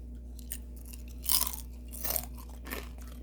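Crisp crunching bites of fried pollock skin, a few distinct loud crunches spread over a few seconds, close to the microphone with a low steady hum underneath.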